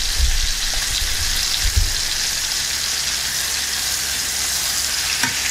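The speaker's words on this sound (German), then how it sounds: "Aber als erstes darf das Fleisch anbraten." Chicken breast searing in a frying pan, a steady loud sizzle with a few soft knocks of the pan early on.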